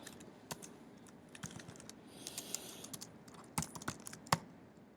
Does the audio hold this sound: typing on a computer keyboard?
yes